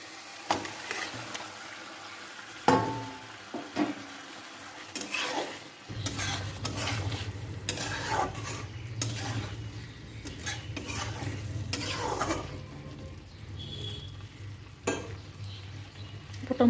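Masala cooks in a pan with soft sizzling and frying, while a utensil scrapes and clinks against the pan in intermittent stirring strokes. A steady frying hiss continues underneath after the first few seconds.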